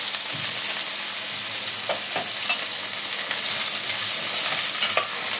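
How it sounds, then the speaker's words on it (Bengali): Chicken fries with onion and garlic in a hot pan, a loud, steady sizzle close by, broken by occasional scraping strokes as it is stirred. "সবগুলো চিকেন দিয়ে পেঁয়াজ রসুনের সাথে একত্রে একটু ভেজে নিতে হবে"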